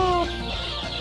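A chicken gives a short, close cluck or two, one quick voiced call at the start followed by a little rustling and low background murmur.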